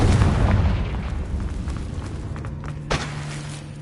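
A Confringo spell explosion in the video game Hogwarts Legacy opens with a loud, deep boom that rumbles and fades, followed by scattered thuds and a sharp smaller crack near the end, with no speech.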